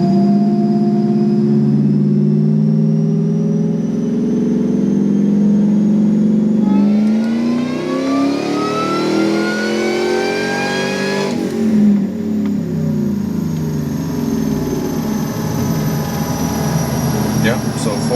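A V8 truck with headers, an upgraded intake and a 4-pound supercharger pulley revs on a dyno, its loud engine note climbing steadily through a long pull before dropping off and droning on, with voices talking beneath.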